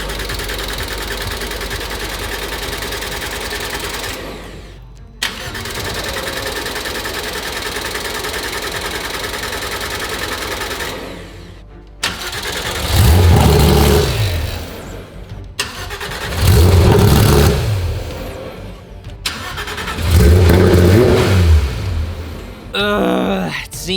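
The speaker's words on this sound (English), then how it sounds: "start the car up, see how the exhaust sounds" A Porsche GT3 RS, rebuilt after a crash, cranks over on its first start attempt and surges in loud bursts of engine noise. Each burst is separated by short gaps and cuts out after a few seconds. No voices are heard.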